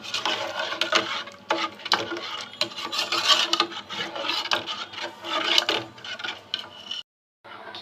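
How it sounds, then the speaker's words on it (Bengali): A spoon scrapes and rubs steadily against the bottom of a pot of kheer, rice pudding made with boiled rice and milk powder, giving close, continuous rasping strokes with brief pauses and a short silence near the end. "ক্ষীরটা ভালো করে লাড়তে হবে, আর নাহলে নিচে লেগে যেতে পারে, এজন্য বারবার লাড়তে হবে।"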